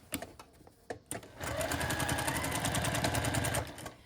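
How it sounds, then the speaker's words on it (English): A sewing machine stitching around a small cloth napkin whirs steadily and close for about two seconds after a few soft handling clicks, then stops. "Sew to the corner and pivot, and then keep sewing all the way around so you get back where you started."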